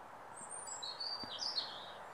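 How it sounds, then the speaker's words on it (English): Blue tits and other woodland birds chirping at a feeder in an English woodland, quick thin high-pitched calls over a low outdoor hush, no talking. "local bird life. There's plenty of activity at this feeder now."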